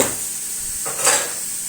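Ground meat with spices being stirred and sautéed in a pan, giving a steady close sizzle and hiss with a brief louder scrape of stirring midway.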